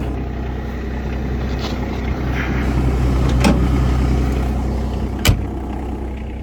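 Sunward excavator engine running steadily at a low, constant drone, close by and fairly loud, with a sharp metallic clank near the end; no talking.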